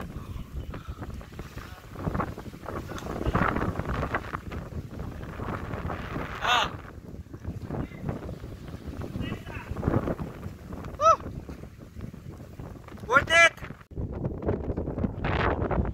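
Strong wind buffets the microphone near a sea cave on the Coloane coast of Macau, with a steady roar of wind and surf throughout and people talking and exclaiming over it.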